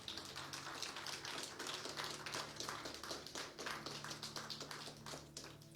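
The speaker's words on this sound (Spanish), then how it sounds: "Alguien dele un aplauso fuerte al Señor." A church congregation applauds during a Spanish-language sermon session, producing dense, continuous clapping that stays fairly even for several seconds and sits quiet and somewhat distant beneath a low steady hum.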